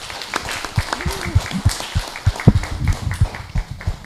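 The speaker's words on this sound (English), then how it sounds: "go ahead and give yourselves a round of applause because y'all did great" Sparse, uneven clapping from a handful of meeting attendees at a city joint meeting, individual claps standing out with faint voices murmuring under them.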